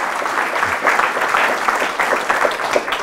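A church congregation applauds during Mass after the Gospel reading, a dense, steady wash of clapping that holds at an even level for the whole stretch.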